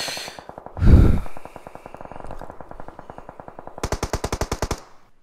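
In a battle royale video game, automatic gunfire is laid down as cover fire: rapid bursts of shots, a breathy exhale partway through, then a louder, fast rattling burst near the end, with no talk.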